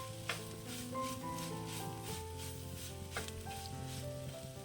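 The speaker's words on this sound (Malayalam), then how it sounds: "എണ്ണ ഒഴിച്ച് നന്നായിട്ട് മിക്സ് ചെയ്തെടുക്കുകയാണ്" Broccoli stirred through coconut oil in a hot pan gives a steady close sizzle with soft scraping, under continuous background music.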